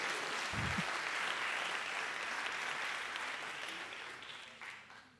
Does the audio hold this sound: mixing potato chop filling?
no